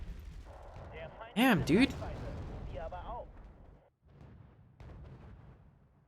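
Artillery fire in the Wargame: Red Dragon strategy game, with a loud burst of booming shots followed by a lower rumble, while players talk over it.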